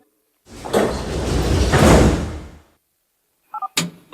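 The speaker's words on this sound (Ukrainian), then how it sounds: "The doors are closing." Sliding doors of a Kyiv metro train close with a loud whooshing rush lasting about two seconds, followed by a brief chime and a sharp thud.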